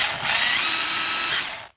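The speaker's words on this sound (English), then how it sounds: "So now we're going to go ahead and drill this out." A drill bores a hole in a part for a Precision Matthews PM 1228 lathe, whirring at a steady high pitch close up for over a second before cutting off abruptly.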